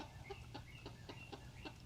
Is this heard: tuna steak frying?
no